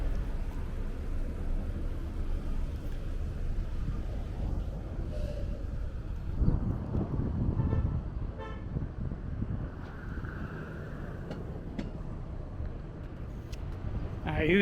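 On a Brooklyn street along Avenue U, a car horn sounds in a few short toots amid steady traffic rumble and wind, with people talking nearby.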